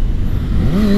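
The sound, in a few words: Kawasaki ZX6R motorcycle engine revving on a missed shift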